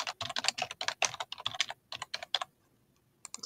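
Rapid typing on a computer keyboard during software setup, a quick run of close, crisp key clicks that stops after about two and a half seconds, with a few more keystrokes at the very end.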